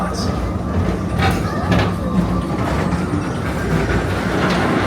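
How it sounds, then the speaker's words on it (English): A train rumbles steadily along the rails, with a continuous low roar and faint rhythmic clatter throughout. "your express train keeps on rolling through the future"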